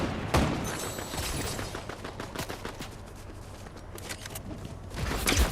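Gunfire in the video game Fortnite, including sniper shots, heard as a dense run of sharp shots and clattering mechanical clicks over a continuous noisy game background.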